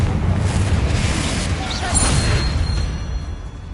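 A Confringo fire spell detonating in the Hogwarts Legacy video game, heard as a continuous, loud, rumbling roar of blasts that holds steady for several seconds with no clear breaks.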